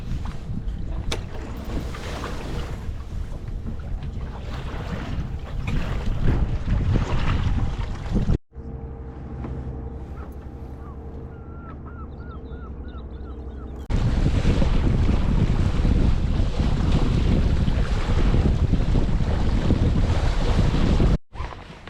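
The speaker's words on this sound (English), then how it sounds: "some wind again." Strong wind buffets a sailing boat off the west coast of Scotland, a loud continuous roar of gusts and microphone rumble, dropping briefly to a calmer stretch of water and rigging sounds before the blustering returns.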